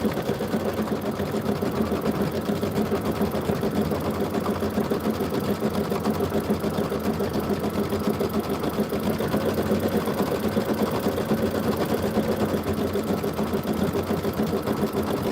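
A sewing machine quilts fabric in a steady, continuous buzzing run of stitches that stays close and even throughout.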